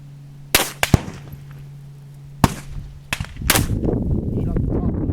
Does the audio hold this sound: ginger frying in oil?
no